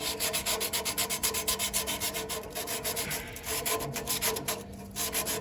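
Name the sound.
sanding metal with emery cloth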